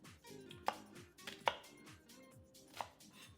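A knife cuts an onion in half on a cutting board for a Spanish potato omelette, giving three or four sharp, close thunks spread over a few seconds with no talking.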